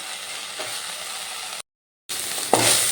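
Drumstick flowers (sajne phool) sizzle in a hot pan with a steady close hiss, broken by a brief silent gap, then a louder burst of frying and stirring near the end.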